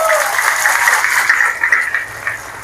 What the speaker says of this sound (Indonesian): Tepuk tangan kalau cocok.